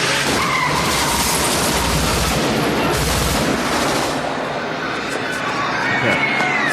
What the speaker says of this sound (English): So we got to hear more of the gunfire chorus.